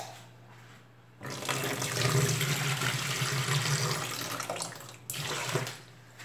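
Cold water pours from a tap in a loud, steady gush for about four seconds while a container is filled for making liquid soap, with quieter running before and after.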